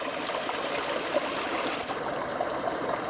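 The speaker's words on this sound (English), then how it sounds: "Down here by the creek." A winter creek runs through a hemlock and rhododendron forest, its water rushing and trickling steadily at close range, partly frozen into icy caverns, with no voices.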